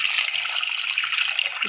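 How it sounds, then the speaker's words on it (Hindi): Water pours steadily into a pot holding tamarind while a chutney is being made in a home kitchen, a continuous splashing gush that stays close and even for the whole stretch. "और इसमें थोड़ा सा पानी डालना है।"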